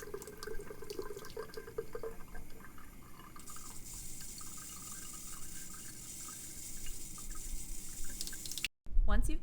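Tap water runs steadily into a drinking water sample bottle being filled for a nitrate test, a continuous wash of flow at moderate level with a brief cutoff near the end.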